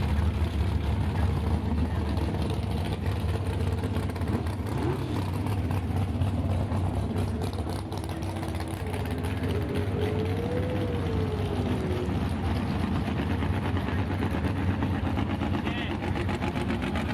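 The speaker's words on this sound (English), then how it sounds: "You can see cars are lining up. This is a regular NHRA race event on Saturday." Idling and rumbling engines of NHRA Pro Stock drag race cars lining up at Byron Dragway during a Saturday race event, a steady low drone throughout with a faint rising tone midway.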